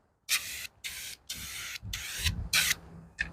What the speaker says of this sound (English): It's got a clog on it a little bit, so it ain't spraying real even.